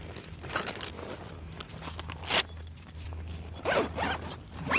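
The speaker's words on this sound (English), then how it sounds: "Now we're going to check all the zippers on the unit." A zipper being pulled along on an inflatable bounce house, several rasping strokes of varying length with short pauses, close and fairly loud, no talk.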